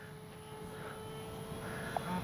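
An H-King Skipper RC airplane flies slowly overhead, its small electric motor giving a steady, faint distant drone with a gentle rise and fall.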